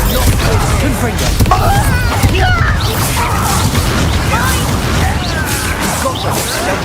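Loud bursting blasts and crashes from Confringo fire spells in Hogwarts Legacy combat, dense overlapping impacts and whooshes throughout, with shouting voices mixed in.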